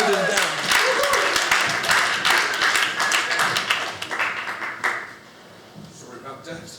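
A comedy show audience claps loudly and steadily for several seconds, then the applause thins out and fades to scattered faint claps.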